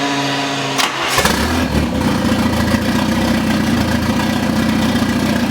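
A Nissan 240SX with a budget turbo kit and no exhaust cranks briefly, fires up and settles into a loud, steady rough idle, close by with no talk.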